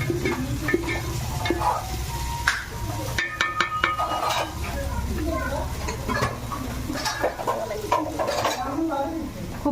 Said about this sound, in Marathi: कांद्याला लाल लाल लाल लाल मस्त होते चांगला परतून घ्यायचा